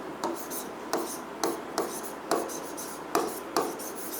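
A pen scratches across paper with a run of short, crisp strokes and taps at an irregular pace, close and clear against a quiet background, with no voice.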